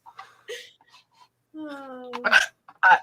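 Several sharp hiccups, one close and abrupt after a strained moaning sound and another a moment later, amid scattered quiet voice sounds.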